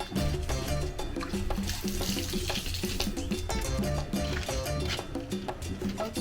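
Hot water runs steadily from a kitchen tap while preparing homemade yellow fufu from corn, a dense continuous rushing and splashing that fills the whole stretch without pause.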